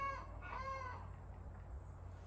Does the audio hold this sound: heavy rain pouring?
no